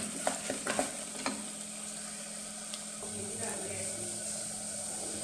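Masala sautéing in oil for a beef dish, a steady sizzle and hiss with a few sharp scrapes and stirring clicks early on, fairly close, with no talk.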